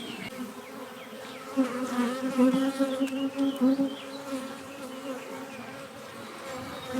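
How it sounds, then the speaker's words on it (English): Dense, steady buzzing of a mass of honey bees crawling over a hive frame during a nucleus colony split, close by, swelling slightly in the middle. "this next frame over is completely covered in bees"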